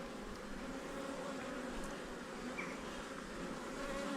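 Honey bees buzz steadily at an opened hive during a nuc amalgamation, a dense, even drone that holds at moderate level throughout with no talk.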